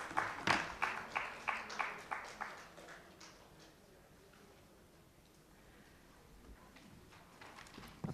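Short burst of audience clapping for the people on a conference dais, several distinct rhythmic claps that fade within about three seconds into quiet room tone.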